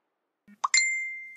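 A soft pop leads into a bright electronic ding that rings out cleanly and slowly decays, alone and close.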